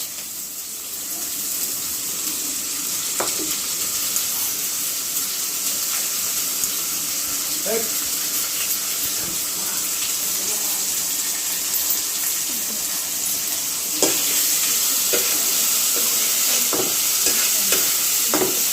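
Ginger-garlic paste fries in a pan for paneer tarka, a continuous close sizzle with a few soft spoon scrapes and stirs scattered through it, and no voices.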